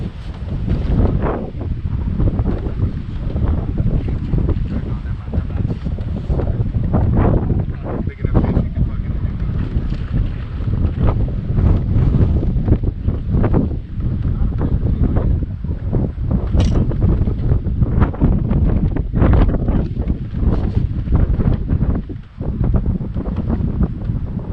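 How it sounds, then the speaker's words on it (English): Strong wind buffets the microphone on open water from a bass fishing boat, a steady loud roar with gusty surges throughout and faint wave sounds beneath. "Wind's coming real hard out of the south."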